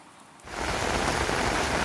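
Heavy rain suddenly intensifies into a dense, loud, steady roar pouring over the surroundings at the Rejo Agung level crossing near a sugar mill rail line, drowning out all other sound.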